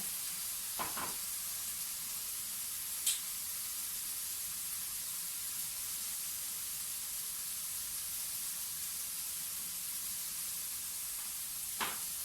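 Onion, garlic, tomato and vegetables sautéing in a pan with pepper and cinnamon, giving a steady, even sizzle throughout, with a few faint clicks from the utensil and no talking.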